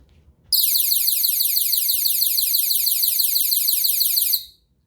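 A 360 solar scarecrow alarm goes off with a loud, shrill warbling electronic siren that holds steadily for about four seconds before cutting out, over quiet outdoor background.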